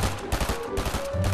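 Gunfire in the video game Fortnite, a quick series of loud, close sharp cracks in uneven rhythm over a steady buzzing hum.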